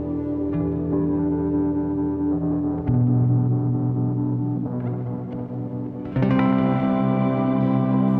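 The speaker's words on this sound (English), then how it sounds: "by the end, I'm leaving lots of space where you're hearing these echoes and reverbs trail off" Ambient electronic sleep music with sustained layered synth tones, heavy echo and reverb washing over each change, steady and fairly loud with no voices.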